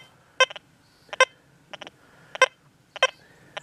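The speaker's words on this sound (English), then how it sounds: "We don't hear no aggressive sound in that speaker of that detector. We hear that little peck." A Deus 2 metal detector in its sensitive program gives short, soft peck tones over a non-ferrous target, five light electronic chirps spaced roughly evenly, clean and close, over a quiet background hum.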